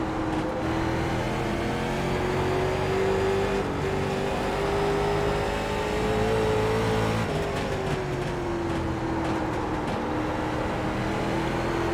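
Late model race car engine in the iRacing sim at Concord Speedway drones steadily, its pitch rising and falling through acceleration and lift-off, loud and continuous, with no talk over it.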